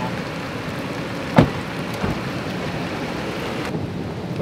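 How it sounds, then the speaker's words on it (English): Heavy rain during a thunderstorm on a fly fishing trip for smallmouth bass, a loud, dense roar of rainfall with a sharp crack near the middle and a softer thump after. "It's starting to come a monsoon."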